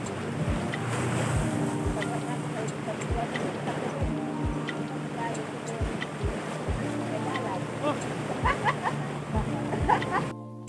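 Wind blows at the seaside, a broad steady rush with wave wash and a regular low thumping, likely from boats or water, running continuously throughout, with faint distant sounds on top and no clear talking.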